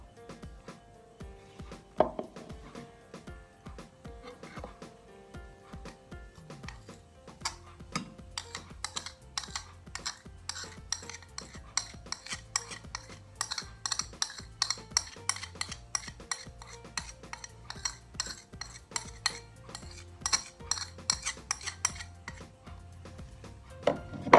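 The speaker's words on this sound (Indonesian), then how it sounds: "Di sini saya menggunakan sendok untuk mencampurkannya." A spoon stirs powdered detergent and half a teaspoon of salt together in a bowl, giving a dense run of quick scraping clicks and taps against the bowl that grows busier midway through, with no talking.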